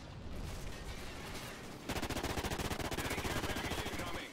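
Submachine gun in Call of Duty: Ghosts fires close and loud. After a steady stretch of battle noise, a rapid automatic burst takes over and runs on without a break.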